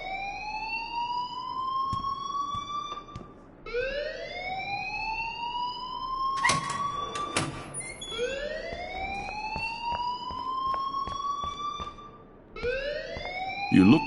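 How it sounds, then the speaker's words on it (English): A wailing siren-style alarm rings in the Life Is Strange video game, rising in repeated sweeps every few seconds, loud and continuous, with brief clacks and knocks breaking in around the middle. "please turn off that alarm since that's your job"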